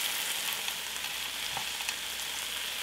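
Mushrooms, corn and soy sauce frying in a pan for vegan ramen, a steady close sizzle with faint crackles and an occasional stir.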